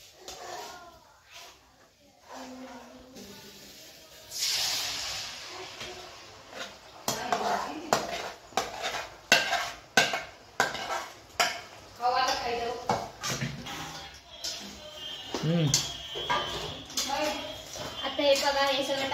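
Soybean chili mixture is stirred in a large metal pot, a spoon scraping and clanking against the sides in irregular bursts while a person talks over the work.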